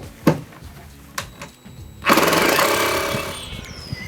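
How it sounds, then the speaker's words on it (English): Screws driven into a tiny house awning, a couple of short tool bursts and clunks followed by a sustained loud power-driver whir that fades slightly. "I'm just going to fire some screws in"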